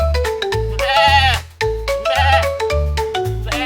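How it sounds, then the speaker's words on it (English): A goat bleats twice, loud and wavering, each cry lasting about a second, over a steady backing of low musical notes. "Meh, the goat."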